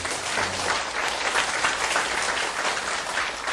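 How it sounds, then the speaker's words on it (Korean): An audience at a social workers' gathering gives a full round of applause, dense even clapping throughout at steady loudness with no talk. "큰 박수 한번 다시 보내주십시오"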